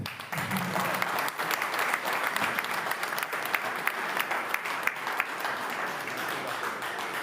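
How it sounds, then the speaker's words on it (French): Audience at a community open-day event on Kabylie applauding a mobilisation organiser, a dense, steady wash of many hands clapping that lasts several seconds, moderately distant, with no talk over it. "Vous pouvez l'applaudir quand même."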